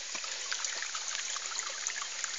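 Water runs steadily from an opened valve into a sand-filled jeevamrut filter tank, a continuous close trickle and splash with no voices.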